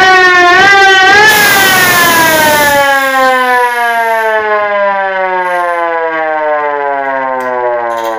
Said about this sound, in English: Warning, it's about to sound.